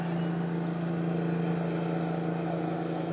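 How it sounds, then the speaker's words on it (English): A constant droning motor hum, like a boat engine running steadily at a distance, with a low tonal rumble and no voices. "Here we got a boat going."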